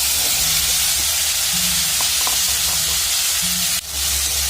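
Mashed bean paste dropped into hot oil with nigella seeds, giving a loud, constant hissing sizzle close up, with a few faint clinks and a brief dip before the frying roar returns.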